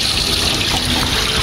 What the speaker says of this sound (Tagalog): lalagyan na namin ng tubig yung aming mga makina po